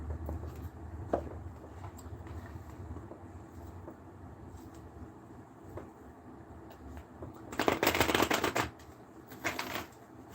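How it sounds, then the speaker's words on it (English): Tarot cards being shuffled by hand, soft rustling and light taps with a louder burst of riffling flutter toward the end, close and fairly quiet with no talking. "we're going to take the cards, I'm going to shuffle them up"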